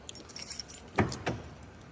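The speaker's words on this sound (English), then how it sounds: "Grab the keys." A set of car keys jangles close by, a few light metallic clinks followed by two sharper rattling shakes about a quarter second apart, with no speech.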